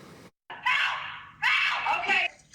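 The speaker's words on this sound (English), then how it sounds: "I was like, that's those freaking coyotes." Coyotes scream at night in Los Angeles, two long, shrill, wavering cries separated by a brief pause, loud and piercing against a quiet background.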